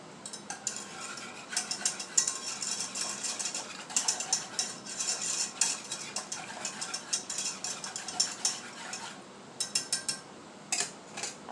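Gravy being stirred in a pot gives a continuous run of scraping, clinking utensil strokes against metal, close and moderately loud, in an irregular rhythm that pauses briefly near the end.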